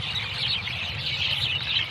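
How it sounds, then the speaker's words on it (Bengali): A flock of birds chirps in an open village field, a dense, continuous high twittering chatter that stays steady and fairly close throughout, with no voices. "এত কিচির মিচির আওয়াজ"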